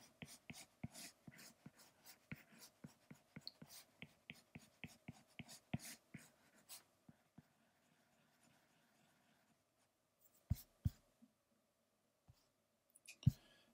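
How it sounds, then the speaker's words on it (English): A pencil sketching on paper, close and quiet: a steady run of short scratchy strokes, then sparse taps and a few louder strokes near the end. "we can go ahead and maybe sketch out another little circle here"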